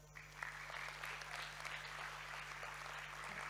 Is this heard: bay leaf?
no